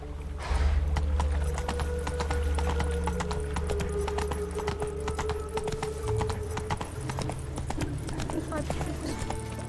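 A horse gallops in the video game The Witcher 3: Wild Hunt, with rapid, steady hoofbeats running throughout over game music, and an occasional voice audible.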